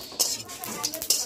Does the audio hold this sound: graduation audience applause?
no